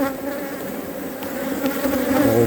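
A honeybee colony in an open hive during queen introduction, with a dense, steady buzz of many bees close by, loud and continuous with no talk.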